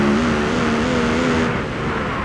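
A Ford Mustang drives in the BeamNG.Drive video game, its engine a loud, steady, sustained drone that holds a constant pitch with no pauses.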